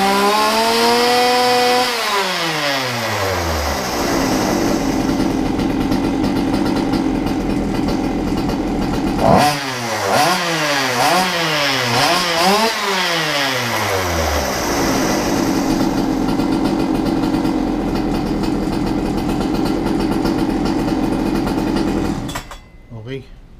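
A Goped GTR gas scooter's small two-stroke engine idles and revs repeatedly up and down, holding a loud, buzzy high-pitched whine before briefly cutting out near the end.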